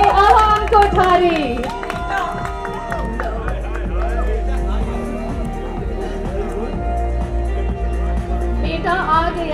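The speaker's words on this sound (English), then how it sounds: "Some applause" An audience at a film trailer launch and press conference claps and cheers loudly and steadily, with crowd noise and music underneath.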